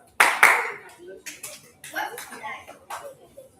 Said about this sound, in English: Some people clap their hands.